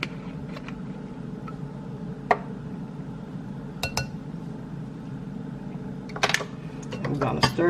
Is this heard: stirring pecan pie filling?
yes